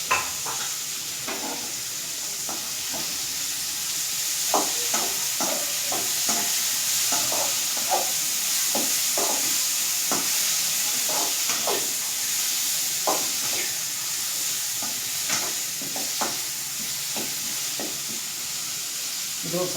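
Tomatoes frying in hot oil in a pan for dhaba-style jeera rice, with steady sizzle and repeated scraping stirs throughout, close and clear, with no voices.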